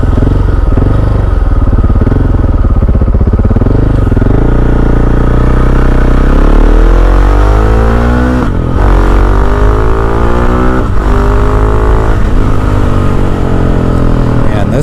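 A KTM 690 SMC R supermoto motorcycle being ridden, its single-cylinder engine loud and close, rising and falling in pitch as it revs and pulls through gears, with wind rush across the recording.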